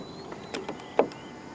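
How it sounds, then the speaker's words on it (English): A 2025 BYD Atto 2 Premium locks from the driver's side door handle button: a few short, soft mechanical clicks and thunks close by, separate and quick against a quiet background. "To lock the car, press the button on the driver's side door handle."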